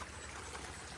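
A small stream runs beside a paddy field at a Wayanad resort, giving a steady, soft broadband rush of flowing water with no break, moderately close and heard alone.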